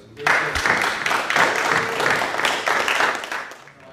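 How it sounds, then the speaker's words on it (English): A crowd at a poetry and fiction reading applauds steadily for several seconds, a dense patter of clapping with a few cheers, fading out at the end. "let's maybe one more big round of applause for everybody"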